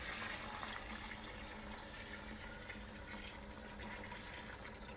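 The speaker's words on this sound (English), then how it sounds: "we're going to just pour our wine" Wine poured from grape pressing into a 32-gallon plastic vat, a steady continuous splashing stream of liquid running without pause, moderately loud and close.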